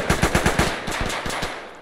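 Automatic gunfire in a multiplayer war video game, rapid bursts of close, loud shots in an uneven rhythm, a fast string then a short pause and more rounds.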